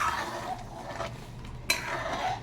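Dal being stirred in a pot, soft scraping and swishing strokes from a spoon, with one sharper clink against the side midway, fairly quiet and close.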